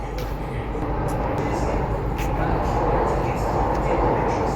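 A Delhi metro train rumbles steadily and loudly up close, a continuous low roar with rail noise that holds level throughout.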